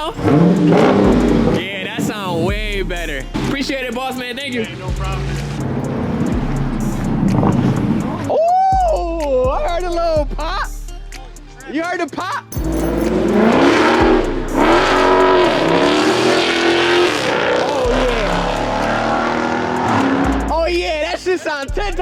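Dodge Charger Daytona fitted with Race Bullet mufflers, its engine revving loud and close in repeated throttle blips with a deep exhaust, while people talk excitedly in between.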